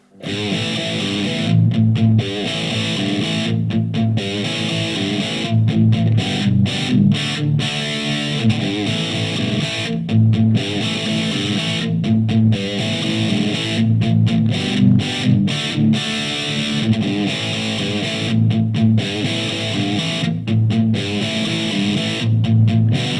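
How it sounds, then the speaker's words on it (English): An Ibanez electric guitar plays a classic rock part through a Fender Mustang GT40 amp on its 80s British model with a Greenbox overdrive stompbox, giving loud, crunchy distorted chords and riffs with rhythmic stops, alone with no talk. "I'm going to be showing you a classic rock sound which I've used the 80s British amp for and the Greenbox stompbox, just giving it a bit more overdrive"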